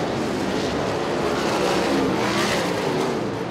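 USAC/CRA sprint cars race down the back straightaway at Perris Auto Speedway, a loud, continuous engine roar filling the whole stretch with no break in the noise.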